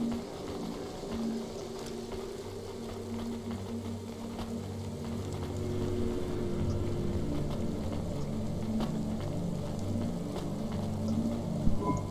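Steady rain falls in the cyberpunk city game Cloudpunk, a dense, even hiss over a low rumbling hum that swells slightly midway, with no voices.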